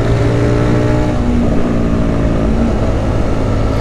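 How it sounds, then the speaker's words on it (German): A Honda CBR 125 motorcycle running on a short test ride, its small engine droning loudly and steadily throughout with rising and falling pitch as it revs, no talk over it. "Ich drehe aber auch nur eine kleine Runde mit dem Bike hier."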